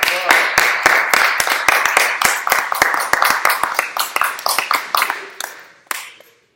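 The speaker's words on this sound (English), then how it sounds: "Applause." A small class claps after a conducting exercise: sharp, distinct hand claps from a handful of people close by, briskly overlapping at first, then thinning out and stopping.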